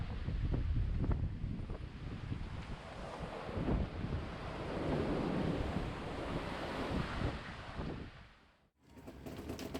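Southern Ocean waves surge and break around a sailboat at sea while strong wind buffets the microphone, a loud, rolling wash that swells and ebbs before a brief sudden dropout near the end.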